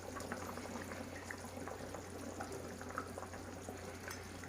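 A pot of stuffed pointed gourd curry with prawns simmers at a steady boil, a dense continuous bubbling and gurgling with a low hum underneath, close and even in level, no voices.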